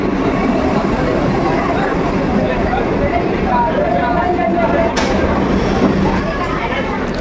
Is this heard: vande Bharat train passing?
yes